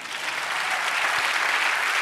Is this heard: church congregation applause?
yes